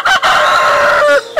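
A rooster crows once, loud and close, a long drawn-out cock-a-doodle-doo at a bird park in Malacca, alone and clear.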